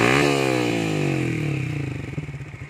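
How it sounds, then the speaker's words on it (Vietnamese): A 2016 Yamaha FZ150i motorcycle, stock and in original condition, fires up with a rising engine tone, then settles into a steady, loud, close idle with a pulsing exhaust rhythm. No one speaks. "Đây mình nổ tiếng máy lên cho anh em nghe luôn."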